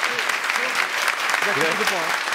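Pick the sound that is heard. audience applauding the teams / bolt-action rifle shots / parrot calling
audience applauding the teams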